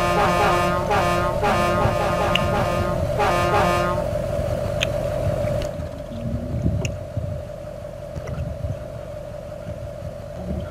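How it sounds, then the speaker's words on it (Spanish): A vehicle horn in the MudRunner off-road driving game blares as one long, steady, loud honk through the whole stretch, with rumbling engine noise underneath. "suena ese claxon"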